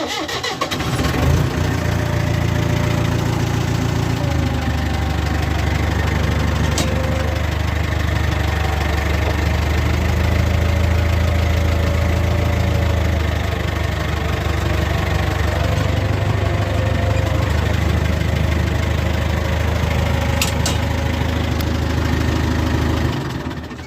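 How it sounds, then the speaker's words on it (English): An International tractor engine runs in neutral with a little rev on it, a loud, steady low rumbling idle with a slight knocking beat that continues for the whole stretch. "let's get the International tuned up. All right, in neutral, the stopper is up. There's a small bit of rev on it."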